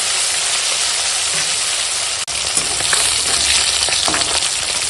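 Fish pieces fry in hot oil in a pan with a steady, loud sizzle and crackle that continues throughout, broken by one brief clack near the middle.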